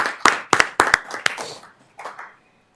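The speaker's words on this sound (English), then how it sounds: "I don't know if anybody will just give you a round of applause because it is really important." A short round of applause at a school board meeting, a handful of people clapping in uneven bursts that quickly thin out and fade to near silence.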